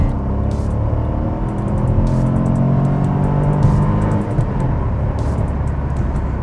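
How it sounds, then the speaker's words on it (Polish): Interior drone of a Kia Stonic with a one-litre turbocharged three-cylinder petrol engine rated at 120 hp, steady and loud while driving on the road, with a continuous low rumble and road noise and no talking. "jedziemy wersją z silnikiem trzycylindrowym. Jest to litrowa jednostka, oczywiście z turbodoładowaniem o mocy 120 koni."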